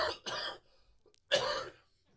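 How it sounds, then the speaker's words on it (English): A person coughs in two bursts, a short pause and then a third longer cough, close and fairly loud with no other sound around it. "I still have this cough that has just been hanging around."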